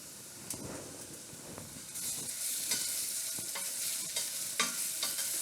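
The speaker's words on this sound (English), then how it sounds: "now we're going to add in a tablespoon of our ginger" A tablespoon of ginger sizzling in oil for carrot ginger soup, a soft steady hiss that grows louder partway through, punctuated by sharp stirring taps against the pot.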